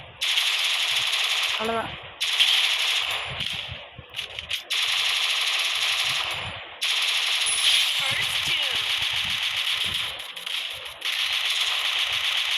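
Rapid automatic gunfire in the Free Fire mobile shooter game, loud dense bursts filling most of the stretch with brief gaps, while someone talks over it.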